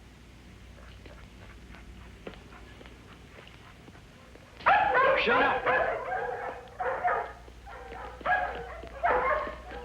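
Dogs in a dog pound burst into loud, yipping barks and whimpers after a quiet opening, and the barking comes in repeated clusters close by while someone speaks briefly.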